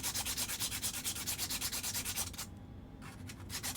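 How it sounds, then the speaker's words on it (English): Steady back-and-forth sanding on small prop pistol pieces, a rhythmic rasping scrape repeating several times a second, close and loud, with a brief pause before the strokes resume. "I'm almost done sanding all the pieces for one of the pistols here"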